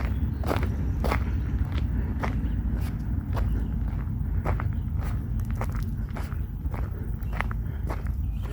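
Footsteps crunch on gravel in a steady walking rhythm, each step clear and close over a constant outdoor background rumble.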